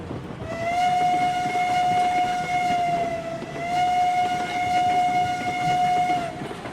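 A steam locomotive whistle in the video game RailRoads Online sounds two long, clear blasts, loud and steady over a low background rumble.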